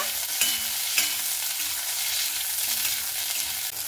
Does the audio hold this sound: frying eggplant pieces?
yes